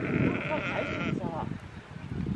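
A sheep bleats loudly at the start, a drawn-out wavering cry, followed by a shorter bleat, with someone talking and outdoor background noise in the gardens of Kedleston Hall, Derbyshire.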